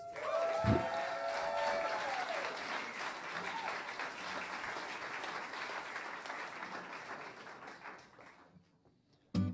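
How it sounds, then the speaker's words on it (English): An audience at the Pabst Theater in Milwaukee applauds the band, a sustained wash of clapping and some cheering that tapers off near the end, with a brief vocal tone early on. "Give them a round of applause"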